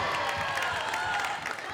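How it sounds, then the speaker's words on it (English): Crowd cheering and clapping in a gym at a girls high school basketball game on senior night, a dense, continuous roar of voices and applause. "the crowd is fired up"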